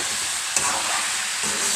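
Potato curry for aloo shorba cooking in a pan, a steady close sizzle with one brief spoon scrape as it is stirred.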